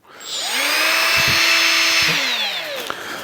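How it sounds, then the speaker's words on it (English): Straight die grinder fitted with a wire wheel, spun up by itself and held at a steady high-pitched whine for a few seconds, with a faint scrape of the wheel partway through before it winds down. "This is a straight die grinder. I've got a wire wheel in."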